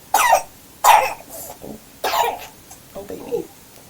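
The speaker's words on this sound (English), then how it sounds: "the cough is real" A person coughs several times in close succession during a livestream, loud harsh bursts with short pauses, trailing off into a softer throat-clearing cough.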